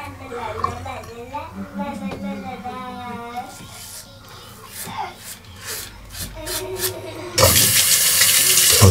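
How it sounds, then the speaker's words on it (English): A Gillette Mach 3 razor rinsed under a running hot tap, with a steady hissing water stream swelling loud near the end, preceded by someone talking. "I always rinse my razor under hot water first before I even get started."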